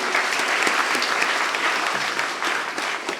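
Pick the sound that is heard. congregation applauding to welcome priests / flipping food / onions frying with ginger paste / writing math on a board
congregation applauding to welcome priests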